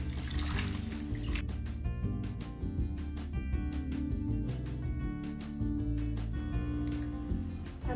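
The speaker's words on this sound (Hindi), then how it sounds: "बाकी सब्जियों को इस तरह साफ पानी से धो लेंगे।" Fresh vegetables being washed in clean water for vegetable momos, with soft continuous splashing and sloshing close by at low volume and no talking.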